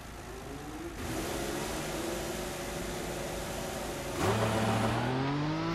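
An F1 car engine in the racing game F1 2014 pulls out onto the Bahrain circuit, a steady loud whine that jumps in pitch near the end as the revs climb, with no talk over it.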